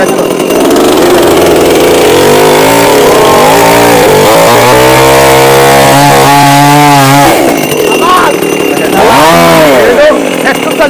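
A petrol-powered chainsaw cuts through wood with a loud, continuous engine roar whose pitch rises and falls as it bites and revs, while people talk over it.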